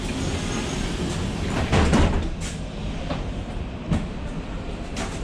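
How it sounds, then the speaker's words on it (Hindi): Sliding doors on an electric bus at a station thud and clunk shut against a steady loud hum of the vehicle's motor and interior noise, with a couple of sharper knocks, no one speaking. "दरवाजे बंद हो चुके हैं और हमने स्टेशन को अब छोड़ दिया है।"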